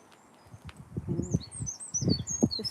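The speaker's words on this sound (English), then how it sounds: "you can hear the birds singing" Birds sing and chirp in a garden set in a dip planted with ferns and hostas, with several high, thin tweets scattered over low background rumble, faint and somewhat distant.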